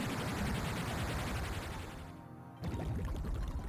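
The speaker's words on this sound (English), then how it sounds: "It's a torrent of water." A loud, rushing torrent of water in the video game Pokemon Black roars steadily, briefly dropping in intensity before surging back at full force.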